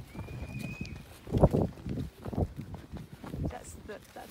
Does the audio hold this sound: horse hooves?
yes